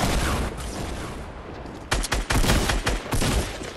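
A SCAR assault rifle in Fortnite lets off dense sustained gunfire, then breaks into several rapid bursts of loud close shots.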